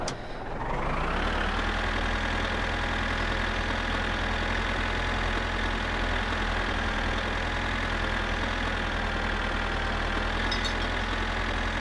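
Car engine in the My Summer Car video game revving up and then holding a steady, loud mid-pitched drone while driving in low gear, continuous and close with no talk.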